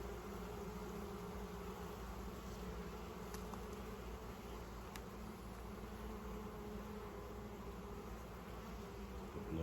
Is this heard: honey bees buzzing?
yes